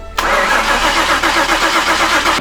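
A chassis-swapped Ford Mustang engine cranks steadily with its fuel injectors unplugged, a loud continuous churning starter drone that nearly catches but never fires, with no voices over it.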